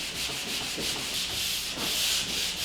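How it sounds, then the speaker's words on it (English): Drywall joint compound is scraped with a fiberglass carbide-grit sanding screen over a switch box in steady back-and-forth strokes, a close, rhythmic gritty rasp with no talk. "This is a switch box I'm sanding over."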